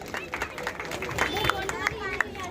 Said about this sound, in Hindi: बहुत बहुत तालियां एक बार इस बहन के लिए